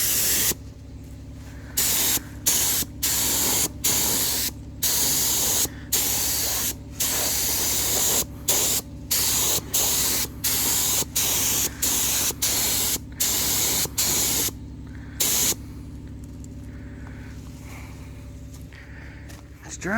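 Primer sprayed onto a Dodge D100 Sweptline dash mantel in repeated bursts of hissing aerosol spray, each lasting a second or two with short gaps, close and loud, tapering into quieter hiss near the end.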